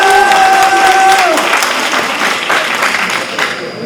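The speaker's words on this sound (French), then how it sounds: "Je vous demande de les applaudir très chaleureusement, de célébrer leur engagement actif à nos côtés." An audience at a Mauritanian diaspora political meeting in Europe breaks into loud, warm applause. The clapping stays dense and continuous, and a voice trails off at the start.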